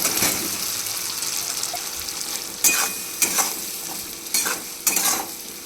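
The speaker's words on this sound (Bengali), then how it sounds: "সস দিয়ে এবার নেড়ে চেড়ে মশলাগুলোকে মিশিয়ে নেবো, মানে ক্যাপসিকাম পেঁয়াজটাকে মিশিয়ে নেবো।" Capsicum and onion with tomato ketchup and soy sauce get stirred in a wok: a continuous frying sizzle carries a run of loud, close scraping strokes of the spatula against the metal.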